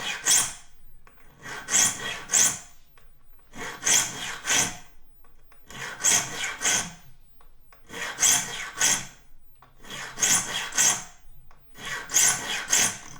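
Hand saw teeth being sharpened with a file at a 0-degree rake, heard as close rasping strokes grouped in bursts of two or three, each group followed by a short pause, with no voices.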